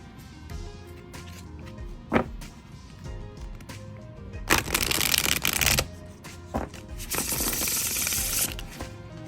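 Tarot cards are riffled and shuffled in two quick, crisp bursts, with soft taps and handling noises between them.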